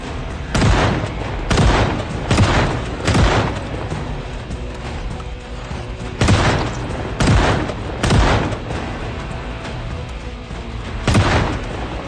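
Shotgun blasts in the video game Project Zomboid, a series of loud booming shots fired at irregular intervals, some in quick pairs, over a constant background hum with no talk.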